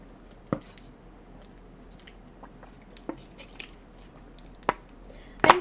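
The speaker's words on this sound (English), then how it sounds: "that was my water bottle crunching out there" A plastic water bottle crunches in a few sharp, isolated bursts, with the loudest cluster of crackles at the very end, heard close and alone in a quiet room.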